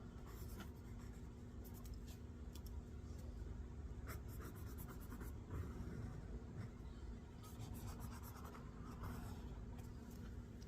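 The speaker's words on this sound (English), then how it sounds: "I'm going to draw a couple islands on the title page." Pen or pencil steadily scratching across paper while islands are drawn on a game title page, a close, quiet run of short strokes with no voices.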